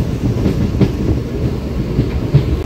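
A 12-coach MEMU electric passenger train runs on the tracks, heard from inside as a loud, steady low rumble with rhythmic wheel clatter and no voices.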